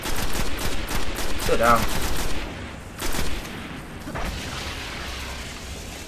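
Loud, rapid gunfire from a weapon in the Destiny video game rattles in dense bursts over the first few seconds, followed by a few more shots and lingering game ambience, while someone speaks briefly.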